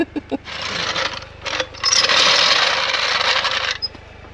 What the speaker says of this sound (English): When your jack is making more sound than the car.